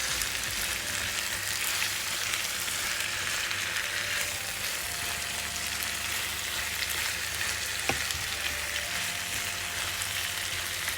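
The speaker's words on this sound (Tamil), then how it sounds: "பாருங்க எல்லாம் அழகாக கத்திரிக்காய் அழகாக வதங்கி வருது" Brinjal and onion fry in a pan for a brinjal pickle, giving a steady, even sizzle close by with a faint hiss over it. One small pop or clink stands out near the end, with no voices.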